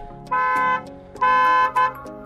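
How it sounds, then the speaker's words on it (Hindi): Anti-theft alarm on a Kia Sonet going off after a door is opened, sounding two loud, steady horn-like beeps and a short third one, close by with no talking. "तो मतलब फिर से हमारा बीप करने लग जाता है"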